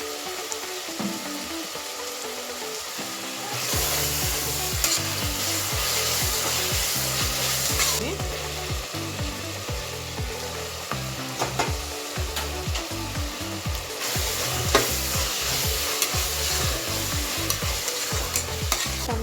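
Onions frying with salt, ginger and garlic in a pan, a loud continuous sizzle under rapid, rhythmic scraping as a spatula stirs the mixture, close up with no voices.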